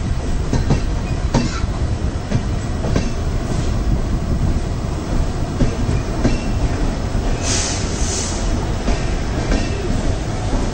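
A passenger train running on the Bangalore–Mangaluru line, heard from aboard as a loud, steady rolling rumble with rhythmic wheel clacks and a brief high wheel squeal near the end. No talking.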